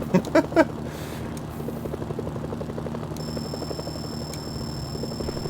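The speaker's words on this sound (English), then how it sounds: "Incoming helicopters." Helicopters approach in the war game Mercenaries: Playground of Destruction, a steady rotor drone running throughout with a few sharp impacts at the start and a tonal alarm-like layer joining partway.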